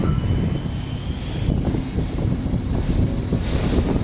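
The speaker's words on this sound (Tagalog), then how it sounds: "lakas ng hangin guys" Strong wind at Manila Bay buffets the microphone in a steady low roar, gusting louder in places, with no talking.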